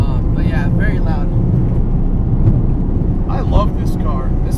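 Loud, continuous roar of R888 tires on a 400+ HP modified FD Mazda RX7 on the move, a dense steady drone throughout, with a voice faintly over it.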